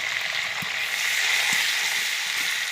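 Chopped onions and a ground paste of green chili, garlic, ginger and cumin sauté in a pan, making a continuous even sizzle with a couple of soft stirring knocks.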